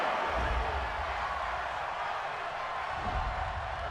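A football stadium crowd at an NFC Wild Card game between the Chicago Bears and Green Bay Packers roars with steady, loud, displeased noise throughout.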